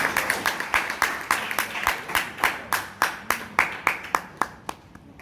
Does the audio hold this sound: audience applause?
yes